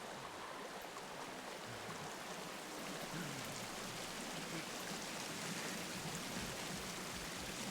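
A waterfall in the Sons of the Forest video game roars as a dense, steady rushing wash of water, even and continuous with no voices over it.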